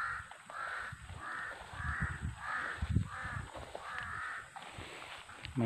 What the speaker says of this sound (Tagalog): May ingay ang uwak.